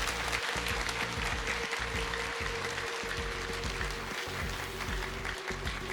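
A lecture-hall audience applauds its leaders at a conference on terrorism in the Sahel, with steady, dense clapping that holds at even loudness for the whole stretch.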